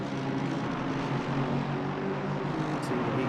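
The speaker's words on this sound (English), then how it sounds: "Most of the engines growl. It's such a great noise." Racing car engines growl continuously and loudly in a racing video game, a thick droning rumble of several cars with steady harmonic tones and no pauses.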